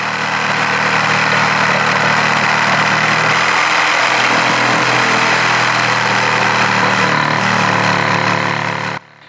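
A homemade table saw built from a reciprocating saw cuts through wood with a loud, steady, buzzing motor drone that runs unbroken for about nine seconds before stopping.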